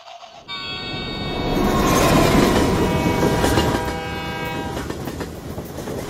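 A slow passenger train on the Daliang Mountain line in China rumbles and clatters along the rails, loud and close, with a sustained horn tone sounding over the steady rolling noise.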